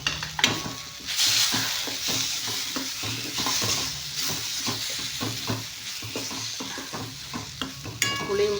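Coriander stems fry in a hot pan with ginger, garlic, curry leaves and spices, giving a steady sizzle broken by repeated scraping stir strokes, close and continuous.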